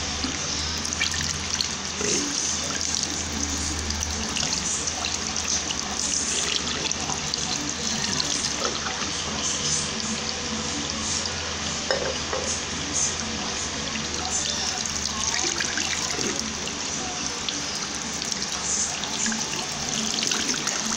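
Water runs steadily from a tap into a sink, a continuous close hiss and splash with a slight trickling texture and no pauses, nobody speaking over it.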